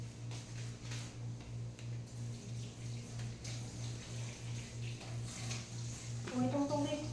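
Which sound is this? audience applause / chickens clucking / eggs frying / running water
running water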